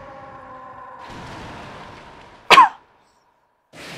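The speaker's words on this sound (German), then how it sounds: "Verzeihung, ich bin immer am Husten hier." One sharp, close cough bursts out over quiet background tones from a Zelda Skyward Sword Wii game session, then brief silence follows.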